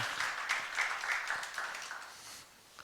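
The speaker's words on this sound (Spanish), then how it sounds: "Dale un aplauso a nuestro Salvador" A church congregation applauds during a sermon, a soft, fairly distant patter of many hands that holds for a couple of seconds and then fades out.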